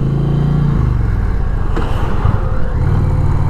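An Indian Challenger motorcycle engine accelerates, a loud, close, continuous rumble that holds steady, then churns rougher as it pulls before settling back, with no talk over it.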